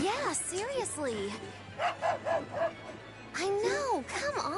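Dog barking in the video game Tales of Berseria: a run of short yipping barks with some whimpering, clustered in bursts over in-game background sound, moderately loud and close.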